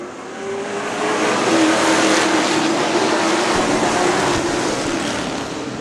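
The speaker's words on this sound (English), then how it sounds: "21 cars taking the green flag for this one." A field of 21 late model race cars roars off at the green flag, a loud, dense wall of engine noise that builds quickly, holds, then eases slightly as the pack moves away.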